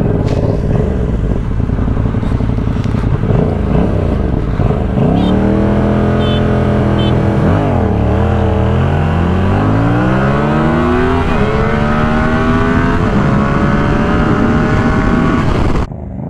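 A Yamaha R7 and a 600cc sport bike accelerate hard through the gears, loud revving engines climbing in pitch, dropping at each shift, then rising again and sustained near and continuous.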